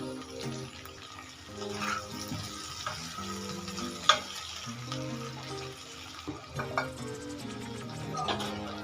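Chopped tomato and okra fry in a pan with a soft continuous sizzle, broken by the scrape and clink of stirring and a sharp knock partway through, with a voice speaking faintly at times.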